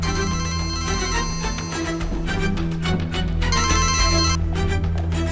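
A telephone rings insistently in a Turkish TV drama, a continuous electronic ringing layered over a dense, loud backdrop that plays throughout.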